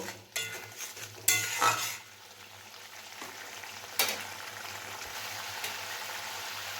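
Masala for a chickpea curry stirred and fried in a pan, with a few sharp scrapes of the spoon over a soft, steady sizzle; quiet and close, with no talking.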